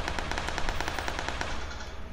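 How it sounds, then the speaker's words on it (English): Rapid automatic gunfire in the shooter PUBG, a fast regular burst of shots at a steady rhythm that fades slightly toward the end, fairly loud with no talk. "I just hear gunshots everywhere."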